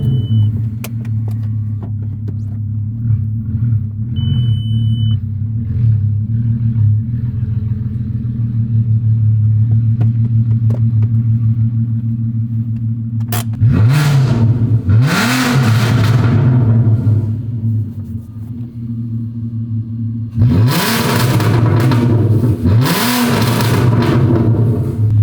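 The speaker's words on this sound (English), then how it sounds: "Basically how it would sound if it was a straight pipe." Loud car engine idling with a deep rumble through a straight-pipe exhaust, then revving hard twice in sharp bursts, raw and unmuffled, close up with no talking.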